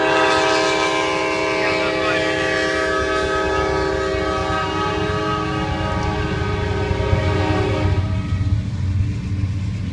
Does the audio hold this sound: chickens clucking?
no